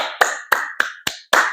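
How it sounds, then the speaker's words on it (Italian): Five sharp hand claps in an irregular rhythm, each a crisp close slap with a short decay, heard alone with no talk. "Un applauso."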